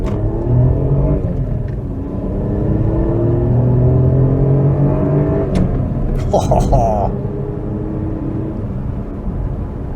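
A Daewoo Matiz small hatchback engine while driving along a road: a steady, loud interior drone and rumble with rising and shifting engine tones, plus a few brief clicks partway through, no voices.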